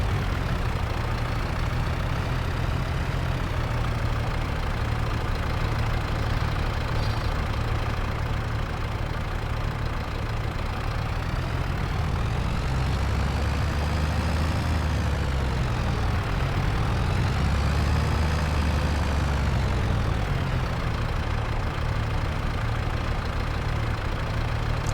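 Farm tractor engine idling in Farming Simulator 25, a steady, dense mechanical rumble that holds at an even loudness throughout with no voices.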